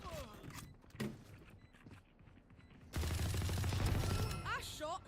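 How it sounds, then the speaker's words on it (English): Gunfire in the video game Valorant, a burst of rapid shots erupting midway after quieter footsteps and game sounds, loud and close with a person talking over it. "I shot somebody."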